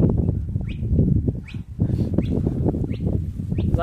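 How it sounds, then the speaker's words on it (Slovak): Recorded birdsong played back from a push-button sound box on an outdoor nature trail at a fishpond reserve, repeated short chirps and tweets over steady low background noise. "keď si stlačíme gombíky, tak nám to prehrá zvuk štebot"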